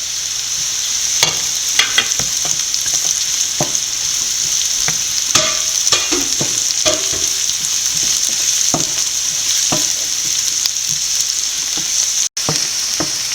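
Onion sautéing in a pan with ginger and garlic, a steady close sizzle punctuated by frequent sharp scrapes and clicks of stirring, with no talking.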